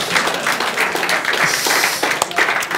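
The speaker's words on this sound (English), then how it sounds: "let's give him a round of applause for that" A conference audience applauding a speaker, a short burst of moderately loud clapping from a modest crowd with faint voices mixed in.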